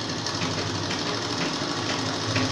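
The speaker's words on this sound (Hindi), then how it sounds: "पर पहले अपने बैक में सिलाई लगा देते हैं हम" Electric sewing machine running a continuous stitch along the back seam of a women's pajama pant, a steady close mechanical whir with no talking.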